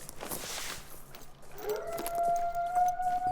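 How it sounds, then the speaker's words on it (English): Wolves howling in the Yukon Valley of the hunting game theHunter: Call of the Wild, a distant drawn-out howl rising and holding steady over faint ambient wind and background noise. "There's a lot of wolf noise coming from over there"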